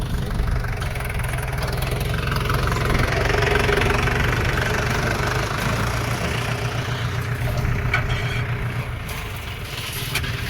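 A tractor engine runs steadily in a farm field where a heap is being loaded, making a loud, close, knocking diesel rumble that holds through the whole stretch without voices.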